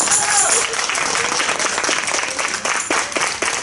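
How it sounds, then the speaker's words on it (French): Audience applause at an outdoor Fête de la musique event in Arleux, a dense burst of clapping from a crowd that holds steady for a few seconds, with some voices mixed in. "Vous pouvez applaudir."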